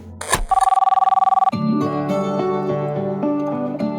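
Landline telephone bell rings out in a rapid electronic trill for about a second, then gives way to a swelling bed of background music.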